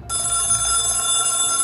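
A telephone rings loudly and steadily at 3:33 AM, a sustained electronic bell tone with bright harmonics starting abruptly and continuing unbroken, close and alone without talk.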